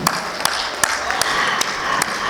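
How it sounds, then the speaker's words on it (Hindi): Audience at a cooperative banking summit award ceremony applauding the dignitaries, a dense crowd clapping with a few sharper claps standing out, steady and moderately close. "एक बार मैं हमारे सभी डिग्निटरीज के लिए चाहूँगी ज़ोरदार तालियाँ"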